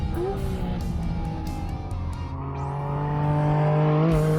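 A Porsche 718 GT4 RS with the Weissach pack, carrying a 500-horsepower engine shared with the 911 GT3 and rear-wheel drive, laps a race track in India, its engine revving hard and rising in pitch, loud and close throughout.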